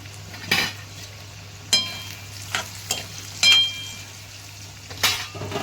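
Potatoes fry in a pan with a steady low sizzle, broken by a few sharp clinks and scrapes of a utensil stirring them, heard close up.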